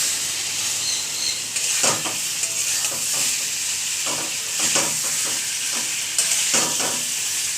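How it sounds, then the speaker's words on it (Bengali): Fried potatoes go into a pan of sizzling masala for Bengali aloo dum and are stirred, producing a loud continuous sizzle broken by repeated scraping strokes of a spoon close by, with no one speaking. "মশলাটা কষানো কমপ্লিট হয়ে গেলে এর মধ্যে দিয়ে দিচ্ছি ভেজে রাখা আলুগুলো"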